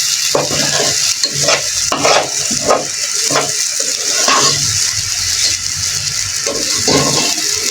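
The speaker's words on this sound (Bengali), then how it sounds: "এখন শুধু ভাজা হচ্ছে।" Khichuri frying in beef fat in a pot, with a steady broadband sizzle and repeated scraping stir strokes of a spoon against the base; close and continuous with no talk.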